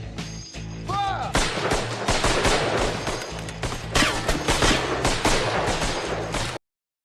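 Machine gun fire roars through a World War I battle scene in a TV drama, with dense rapid bursts and heavy explosive booms layered together, loud and continuous before cutting off abruptly.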